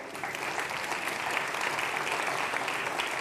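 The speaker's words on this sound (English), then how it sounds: "And see if he gets the same applause." Steady applause from a large audience, a dense, even patter of clapping heard from a distance with no voices standing out.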